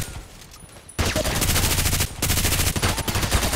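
Rapid automatic fire from an RPK rifle in the game Contract Wars, starting abruptly after a quiet moment and continuing in loud close bursts with a short break.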